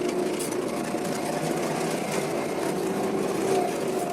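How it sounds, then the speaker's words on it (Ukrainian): A tractor drags a floating cultivator across a field with a steady, loud, unbroken mechanical drone and rattle. "Кидаємо плаваючий культиватор і поїхали."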